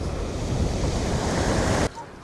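Wind buffeting and surf rushing on a beach, a steady loud roar of wind noise and waves that cuts off abruptly near the end.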